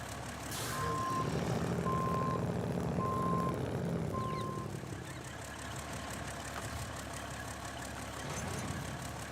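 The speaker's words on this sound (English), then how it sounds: "a lot of people in your neighborhood with beep beeps when they back up" A reversing truck beeps four times in an even rhythm at a moderate distance while its engine rumbles steadily beneath, then it carries on idling after the beeping stops.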